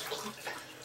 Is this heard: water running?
yes